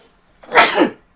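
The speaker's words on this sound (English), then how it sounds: "I'm just about to sneeze, actually." A single loud, close sneeze bursts out in a quiet room, sharp and brief, from a person playing the online game Everquest.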